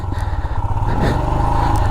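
Motorcycle engine revving hard as the bike slips on sand on a rough mountain track in Spiti, a loud, close, steady throbbing drone with some clattering.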